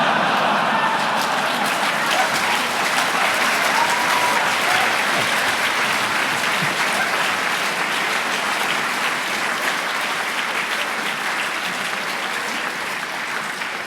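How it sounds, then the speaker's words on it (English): A lecture audience at Imperial College in London claps steadily for a long stretch, a dense wash of applause that slowly thins toward the end. "I'm loving the slow clap ratio here."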